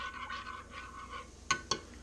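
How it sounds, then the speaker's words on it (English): A fork or spoon stirs a beef jerky marinade in a bowl, with soft repeated swishes and two sharp utensil clinks against the side near the end, close and alone. "Give it a quick stir with a fork or a spoon, which I'll be doing."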